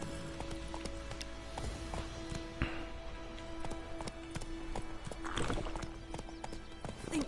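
Roach, the horse in the video game Witcher 3, trots with quiet, rhythmic clip-clopping hooves, steady and fairly faint against low game ambience.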